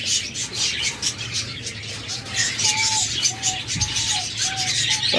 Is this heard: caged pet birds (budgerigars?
yes